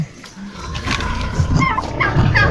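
A turkey gobbles in a rural yard during a planting day, with bursts of gobbling in the middle and near the end over steady background noise.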